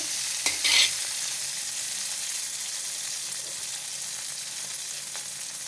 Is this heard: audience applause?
no